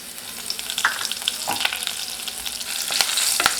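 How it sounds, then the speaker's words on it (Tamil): Mustard seeds and urad dal splutter in hot oil for a pumpkin mor kuzhambu tempering, with irregular sharp pops and crackles over a soft sizzle, close and unaccompanied by talk. "கடுகு உளுந்தம்பருப்பெல்லாம் நல்லா பொரிஞ்சதும் கொஞ்சமாக காயம் சேர்த்துக்கலாம்"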